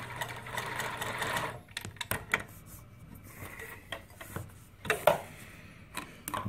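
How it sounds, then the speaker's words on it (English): A New Tech GC-20U83 zig zag lockstitch sewing machine runs in a steady whir for a couple of seconds, then stops and starts with close mechanical clicks and taps. "I'm going to go ahead and start sewing"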